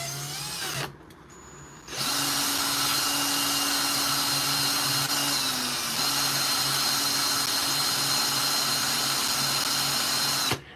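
A coin ring being sanded with 100 grit sandpaper, heard as a steady, loud whirring drone with a continuous abrasive hiss that runs for about nine seconds after a short pause near the start, with no talk.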